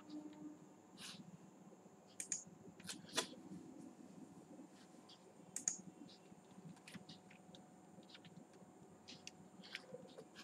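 Quiet, irregular clicking of computer keys being typed, in short bursts with pauses over a low steady hum.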